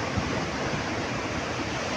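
Sea waves splash and wash in a continuous broad rush while the strong amihan monsoon wind blows, steady and unbroken with no voices.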